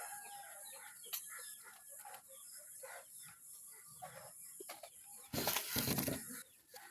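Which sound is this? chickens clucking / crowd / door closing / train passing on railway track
chickens clucking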